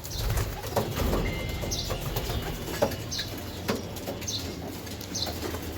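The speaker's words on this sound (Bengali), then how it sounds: "আরো এই রুমে ঢুকতেছে আরো কবুতর ঢুকবো এখানে" Racing pigeons crowd into a room on a pigeon farm, with repeated wing flaps and scuffling, soft coos and a few high chirps close by, continuing throughout.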